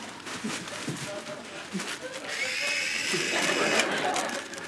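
A high-pitched drill whine rises and holds steady, heard alongside voices and background clatter.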